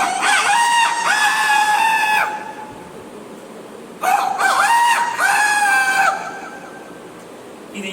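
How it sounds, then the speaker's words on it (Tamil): Two loud rooster crows ring out one after another, each a long rising and falling call lasting about two seconds, with a short quiet gap between them and no talking. "இப்போ சேவலுக்கு முதல் சேவல் பொழுது விட முன்னாடி போகும், கம்பீரமா போகும்"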